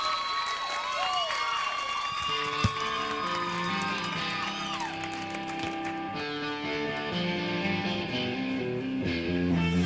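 Crowd cheering and applause with whoops at a late-night live show, loud and continuous, welcoming the performers, with music swelling in underneath partway through.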